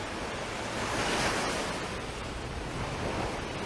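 Waves washing onto the shore at a Barbados beach near St. Peter's Bay, a steady surf roar swelling gently and receding, with light wind over the microphone and no voices.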